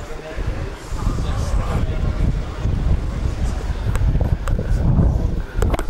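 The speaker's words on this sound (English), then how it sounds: "It's quite windy." Strong night wind buffets the microphone in a constant low rumble, with occasional clicks and a voice talking under the gusts.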